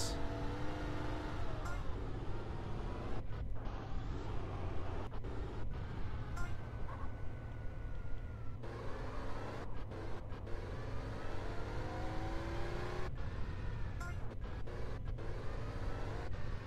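Cars racing in GTA San Andreas Definitive Edition: a steady, loud engine drone with shifting revving tones throughout, broken by occasional short crashes or clunks, with no pause.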